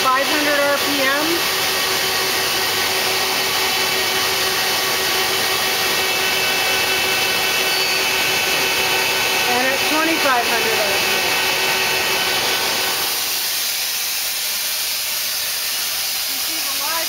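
A 1996 Citizen L25 Swiss-type lathe runs its main spindle at 500 RPM, giving a steady mechanical whine and hiss with a constant high tone, under faint talk, before the noise drops sharply near the end.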